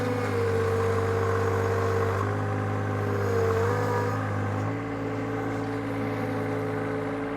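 A Deere 1025R compact tractor with a toothbar, its engine droning steadily and loud while ripping out stumps, with the pitch shifting as the load changes and no talk over it.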